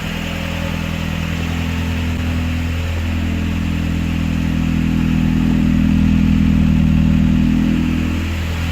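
A Renault 19 16v Chamade engine idles roughly on its first start, a steady loud rattly hum with a brief swell in revs, close by and without talk.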